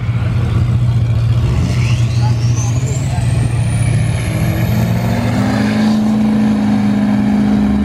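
Duramax diesel pickup trucks drag racing, with a loud, heavy engine roar that builds and shifts in pitch. A high whine from a turbo or a passing vehicle rises sharply over the rumble, and people are talking underneath.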